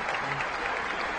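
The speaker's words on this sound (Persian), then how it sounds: "تشویق بفرمایید لطفاً" A studio audience on an Iranian couples' game show claps together, a short, even wash of applause at steady loudness.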